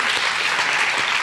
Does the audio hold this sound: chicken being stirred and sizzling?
no